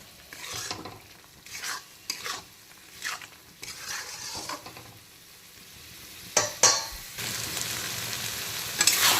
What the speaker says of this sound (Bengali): এখন আবারও এই মশলাটাকে আবারও দুই তিন মিনিট সময় নিয়ে ভালো করে কষিয়ে নেব